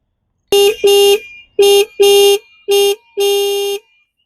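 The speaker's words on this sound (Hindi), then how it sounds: "तो ये इसका हॉर्न है जो काफ़ी ज़्यादा अच्छा है" A Bajaj Pulsar N250 motorcycle horn honks loudly six times up close, in short and longer bursts with brief gaps between them.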